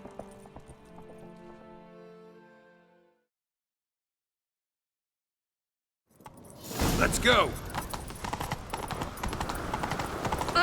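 Horse galloping in the video game Witcher 3: after a brief voice and a moment of silence, loud rapid hoofbeats and rushing wind surge in and continue steadily to the end.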